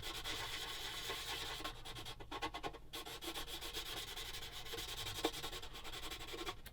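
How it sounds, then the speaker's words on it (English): 600 grit sandpaper rubbed on a plastic part of a Bronco Mk XXIII submarine 1/35 model kit, a steady fine scratching rasp in quick back-and-forth strokes, close and fairly quiet. "You can always tell the difference of the papers as well, because of the fact you can't hear as much scratching as it were."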